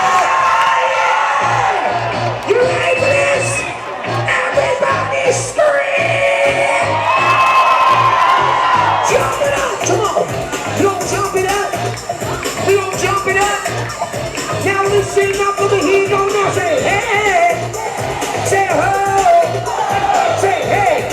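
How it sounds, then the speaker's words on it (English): A crowd screams, whoops and cheers at a party aboard a Carnival cruise ship over pulsing thumping music, with a host talking over the noise. "You ready for this? Everybody scream!"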